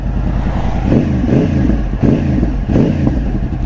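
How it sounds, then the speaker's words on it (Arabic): A 2024 Voge 525 DSX motorcycle engine revs up close and loud, with its throbbing idle rising in several throttle blips and falling back; a voice briefly calls out once. "ندير لكم شي حاجة، ديال الرونفلاج الاخوان"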